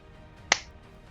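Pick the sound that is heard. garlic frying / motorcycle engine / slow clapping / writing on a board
slow clapping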